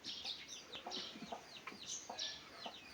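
Soft, quiet peeping and clucking from young chickens, a scattered run of short calls close by.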